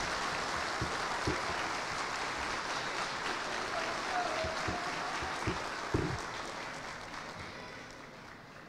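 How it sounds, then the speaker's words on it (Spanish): Applause for new graduates at a graduation ceremony rolls on as a soft, distant wash of crowd clapping with occasional louder nearby claps, tapering off toward the end, with faint voices in the background. "Fuertes esos aplausos a nuestros flamantes egresados."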